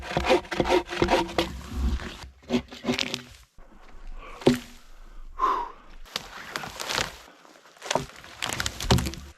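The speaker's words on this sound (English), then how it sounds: "I'm gonna cut that one down and that one" Cutting down a spruce tree in the woods: rough, rasping wood-cutting strokes come in uneven bursts with short pauses, close by, mixed with heavy breathing and a gasp from the person doing the work.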